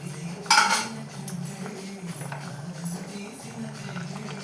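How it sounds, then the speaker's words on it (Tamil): A spoon stirs rice in a metal pot of veg dum biryani over the flame, with a sharp clink near the start and then steady scraping and soft clatter throughout. "இப்போ இதை நல்லா கலந்து விட்டுடலாம். லைட்டாக கிண்டி விட்டுடலாம்."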